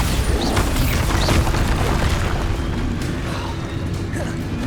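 Spell explosions from Confringo and Bombarda in Hogwarts Legacy, deep booms and crashing bursts with rumbling debris, loud at first and then fading slightly.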